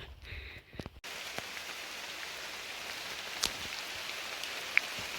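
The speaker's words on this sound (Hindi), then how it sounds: "बारिश स्टार्ट हो चुकी है और मेरे पास छाता नहीं है, बहुत मोटी बारिश हो रही है।" Steady heavy rain pours down in a dense hiss on a hill trekking trail in Pauri Garhwal, with a few sharper drops standing out; a brief quieter patch comes before the downpour sets in.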